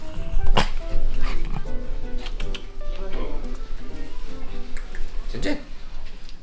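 A dog barks and yips repeatedly at close range, with sharp bursts scattered through the clip amid people talking and a busy background.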